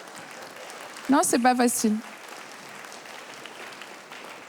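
A crowd at a Juste pour rire stand-up comedy show claps softly in the background while someone briefly speaks a short line near the start. The applause is a faint, steady hiss of hands that continues alone after her voice stops.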